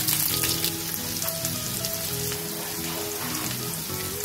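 Chopped onions hitting about two tablespoons of hot oil in a pan while cooking palak paneer, giving a steady, crackling sizzle with tonal hum underneath, close and continuous without a pause.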